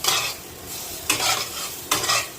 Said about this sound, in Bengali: এখন আমি কুড়িয়ে রাখা নারকেলটা দিয়ে দিলাম, 1 বাটি চিনি দিয়ে দিলাম, দিয়ে ভালো করে নেড়ে নেব।